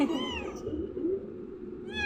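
A kitten meows in short repeated cries, fairly close and clear, with a final rising meow at the end, over a low background rumble and no talking.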